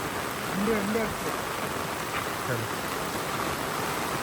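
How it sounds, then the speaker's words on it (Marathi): Faint, steady hiss of rain falling outdoors, with a few soft indistinct sounds in the background. "पाऊस म्हणजे बघा किती आज पडतोय आमच्याकडे"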